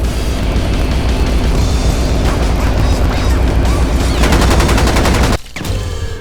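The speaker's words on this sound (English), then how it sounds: "See, I'm shooting them, but they're not backing away." Rapid gunfire and shooting bursts from the video game Enter the Matrix, a dense, continuous fusillade with booming impacts that runs loud throughout before a brief dip near the end.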